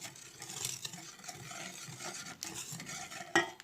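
A spoon stirs starch into a milk pudding mixture for a walnut kadayif dessert, making a soft continuous scraping and swishing with light clinks against the pot, steady and close, with a sharper knock near the end.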